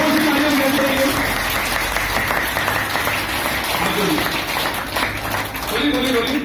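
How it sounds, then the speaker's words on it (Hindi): Applause from an audience at the launch of an alkaline drinking-water product, a dense steady wash of many hands clapping for several seconds with voices and a cheer rising over it. "जोर से तालियां बजाने चाहिए"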